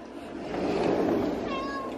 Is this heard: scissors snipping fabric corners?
no